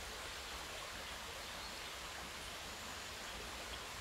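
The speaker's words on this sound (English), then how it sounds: "River runs right through the centre of this small river stream." A small river stream flows with a steady, broad rushing wash that stays even and continuous throughout, close and moderately loud, with no voices.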